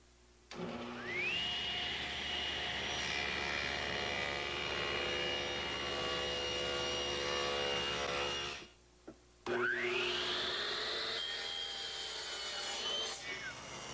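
A table saw rips through fir held in a tapering jig, its loud steady whine running for about eight seconds, dropping out briefly, then spinning back up for a second cut.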